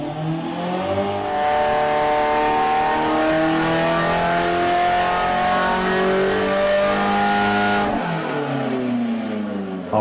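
A RUF RGT8 sports car based on the 911 revs its engine, a smooth rising and falling tone that climbs through the gears, loud and close, then drops back near the end.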